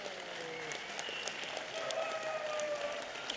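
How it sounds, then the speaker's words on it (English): Audience clapping steadily at a Los Angeles County Board of Supervisors meeting, a quiet, even patter of many hands with faint voices mixed underneath. "Now you can clap."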